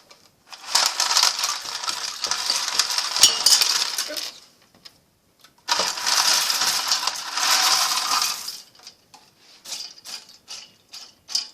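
Dry pasta rattles and clatters into a pan in two long pours, a bright rustling cascade up close, with scattered clicks afterward.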